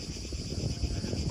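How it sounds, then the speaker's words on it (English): Cicadas singing on a residential street on the island of Murano in the Venetian Lagoon, a steady high buzzing chorus held constant throughout over a low background murmur. "where we hear the gentle singing of the cicadas."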